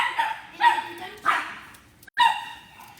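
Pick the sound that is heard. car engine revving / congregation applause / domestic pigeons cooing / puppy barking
puppy barking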